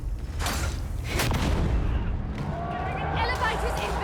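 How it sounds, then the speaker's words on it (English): Explosive barrel detonating in Warhammer 40,000: Darktide, loud booming bursts amid ongoing gunfire and battle clatter, with a voice shouting over the din. "Barrel detonation!"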